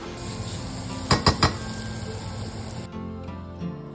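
Turmeric, ground coriander and chili powder stirred in a hot pan for a chicken masala, a steady sizzle with three quick spoon clanks against the pan midway, then quieter frying.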